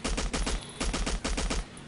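A light machine gun in Battlefield 1942 fires rapid, loud bursts, about a dozen shots in short strings with brief gaps between them.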